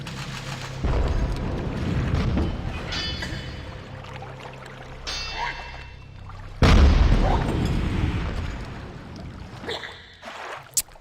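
Cannons fire in the video game Dungeon Keeper 2, deep booming blasts, one especially heavy, over a continuous rumbling game soundscape with scattered clatter and thuds.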